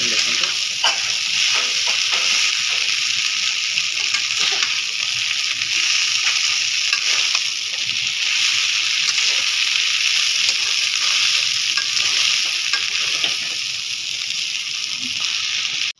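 Chow mein stirred and fried in a pan with chili, soy and tomato sauces and vinegar, a loud steady sizzle with scraping stir noises running throughout, close up.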